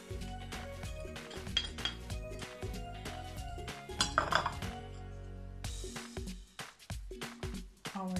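Lumpia filling of grated carrots, turnips or kohlrabi, parsley, salt and pepper is stirred in a bowl, with repeated clinks and scrapes of a utensil against the dish at close range; no speech.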